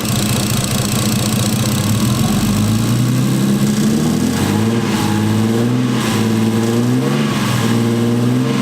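A Nissan 240's RB20 engine idles steadily up close with its cover on, a continuous low rumble with a slight rise and fall in pitch, no voices.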